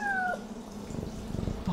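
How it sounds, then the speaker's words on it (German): A cat meows in the video game Yonder: The Cloud Catcher Chronicles, giving two short rising-then-falling calls close up over a low ambient game hum. "Ich habe nämlich beim Rumprobieren hier mal eine Katze gehört."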